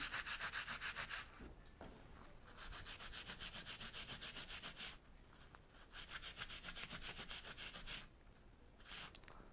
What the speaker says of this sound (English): I like to clean this edge up so it sits nice against the O-rings. Just use a little Scotch-Brite again.